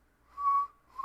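A voice makes a short, faint whistling chirp imitating a cricket in a quiet room, with a second brief chirp cut off at the end.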